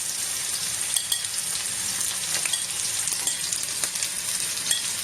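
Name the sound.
cassava (mogo) sautéing in pan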